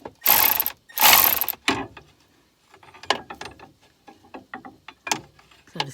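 A breaker bar and socket work a bolt on the intake manifold of an R56 Mini Cooper S with the N14 engine, giving two loud bursts of grinding, ratcheting noise up front, then quieter scattered clicks and taps.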